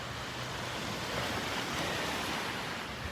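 Ocean waves washing onto a beach make a steady, broad roar of surf that continues without pause, fairly close and with no voices.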